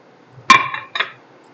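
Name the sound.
dishing out a club sandwich onto a plate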